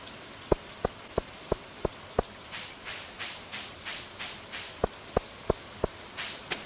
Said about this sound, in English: because it's raining out, everybody's too chicken.